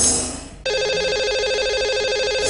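Electronic telephone ring on a Hindi radio call-in show as a lucky caller is connected, a steady, loud repeating warble starting after a brief quiet lead-in and continuing to the end.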